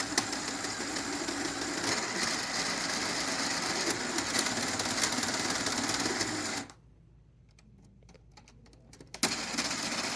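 Small electric motor spinning the gearbox of a LEGO 42056 Porsche 911 GT3 RS, a steady whirring buzz running for several seconds before cutting out abruptly, then briefly resuming after a pause.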